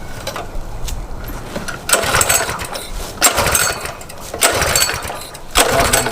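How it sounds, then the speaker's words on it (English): A Coleman mini bike engine that fails to start rattles and churns mechanically near the listener, with regular louder surges about once a second from repeated cranking attempts, and it never settles into a running idle. "So as you can see, it's not wanting to start."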